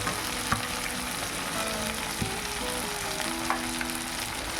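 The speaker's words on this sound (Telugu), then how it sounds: "ఇంకా ఉల్లిపాయలు కొంచెం మగ్గాలి నూనెలో," Onions and a handful of cashews frying in oil for an egg masala curry, a steady close sizzle with a few faint stirring clicks and no talk.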